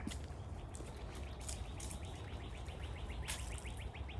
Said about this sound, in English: Listening to all the bird sounds.